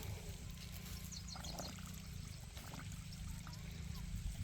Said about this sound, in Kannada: ನೀರು ಎಷ್ಟು ಗಲೀಜಾಗಿ ಬರ್ತಾಯಿದೆ ನೋಡಿ.